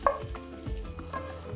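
Fried meat tipped from a pan onto a mushroom filling for lavash pies, giving a soft sizzle with a few scraping and stirring knocks, close by and fairly quiet.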